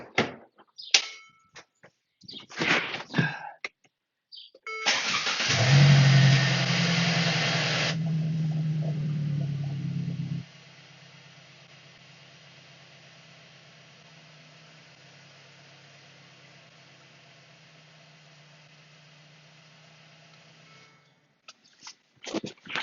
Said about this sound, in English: Okay, so I'm going to start the car really quick.